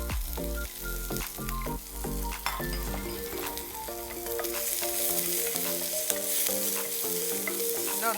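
Onion and green chillies with salt sauté in a pan for an egg wheat dosa, giving a steady, close sizzle and frying crackle that runs unbroken through the clip, with no talking.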